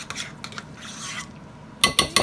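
A spoon scrapes and stirs cream cheese, sour cream, sugar substitute and vanilla in a bowl, with soft rubbing strokes followed by three sharper clinks against the bowl; quiet, close, with no talking.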